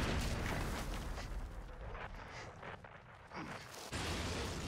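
Artillery strike explosions in a Band of Brothers war drama episode: heavy, rumbling booms and blasts overlapping continuously, with a loud surge at the start and end and shouting voices mixed in.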